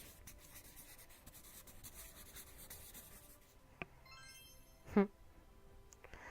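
Crayon drawing in a video game: a continuous scratchy rubbing of crayon strokes runs throughout at a moderate level, interrupted near the end by a brief tonal chime and a short louder sound effect.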